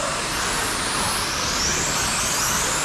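Sprint cars in a masters heat race roar past on the track, a loud dense wash of engine noise that holds steady for a few seconds with no gaps.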